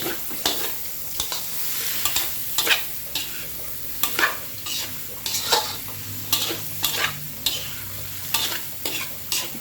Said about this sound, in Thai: ต้องผัดให้เห็ดสุกอีกหน่อย